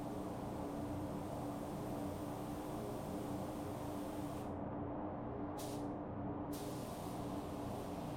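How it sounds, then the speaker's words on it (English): A Porphis PRD 717 split-nozzle spray gun hisses steadily while spraying base coat at about 26 psi, close and continuous, with two brief changes in the hiss near the end. "This is the very first time spraying with this spray gun"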